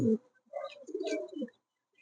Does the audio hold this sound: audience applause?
no